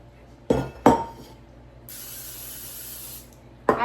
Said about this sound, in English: Spray them with some cooking spray.